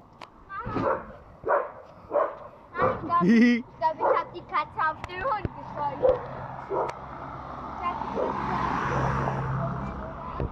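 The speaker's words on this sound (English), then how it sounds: "Oh yeah, there is a dog barking." A dog barks repeatedly outdoors at night, a string of sharp, fairly close barks and yips in an irregular rhythm, followed by a steady low hum.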